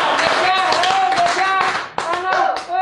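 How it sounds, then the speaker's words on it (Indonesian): Audience clapping at a music talk show, dense and steady throughout, mixed with a bright sustained tone and voices talking over it. "Tepuk tangan dulu."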